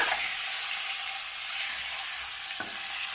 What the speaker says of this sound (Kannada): ಮೊಟ್ಟೆನ ಎಣ್ಣೆಗೆ ಹಾಕಿದ್ಮೇಲೆ ಚೆನ್ನಾಗಿ ಇದನ್ನ ರೋಸ್ಟ್ ಮಾಡ್ಕೋಬೇಕು